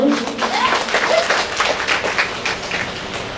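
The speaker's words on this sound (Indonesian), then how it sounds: "Saya mohon tepuk tangannya semua dulu." A crowd applauding at a grand opening ceremony for a PSPP Penerbangan branch in Makassar, a sustained wash of clapping with a voice talking over it.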